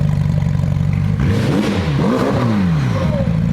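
A damaged McLaren 720S engine runs roughly while smoking, droning unevenly and then revving in loud, wavering surges with clattering. It is close and dominant, with no speech over it.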